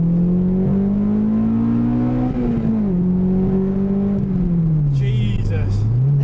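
A Honda Integra Type R DC2 with its VTEC engine accelerates at full throttle from inside the car, a loud steady engine drone rising and dipping through the gears.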